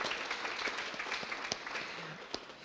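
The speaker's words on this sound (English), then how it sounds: "let's give them a hand of applause" Audience applause after a talk on verbal descriptions and inclusive design: a steady, fairly faint wash of clapping from a gathered crowd across the whole moment, with a few sharper individual claps standing out.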